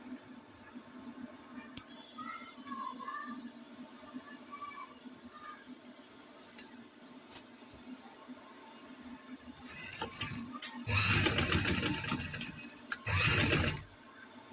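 Sewing machine stitching a zigzag lace neck design on a winter garment, first a quiet mechanical hum, then two loud close bursts of rapid stitching near the end.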